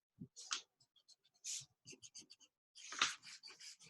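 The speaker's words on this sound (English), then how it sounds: "Now at this point, we could erase out our helper lines." A pencil eraser rubs out light helper lines on paper during a portrait drawing, heard as a series of short, close, scratchy rubbing strokes with brief pauses between them.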